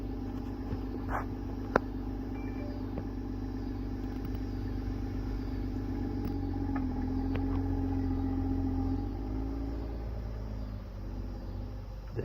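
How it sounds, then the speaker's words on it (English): A BMW engine runs steadily at idle, a low continuous rumble with a faint rise in pitch midway, heard close and moderately quiet, with a few small clicks and no talk. "Bro, that BMW sounds nice."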